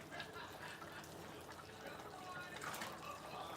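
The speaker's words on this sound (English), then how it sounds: "I'm just adding some of the broth in there." Fish broth poured into a pot of Liberian cassava leaf stew, a soft continuous liquid wash and trickle, close but faint, with a voice faintly present.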